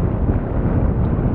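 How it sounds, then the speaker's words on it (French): Steady wind rushes and buffets the microphone aboard a sailboat setting out under sail, a broad continuous roar with low rumble and no voices. "on voit qu'il y a quand même un petit peu de vent"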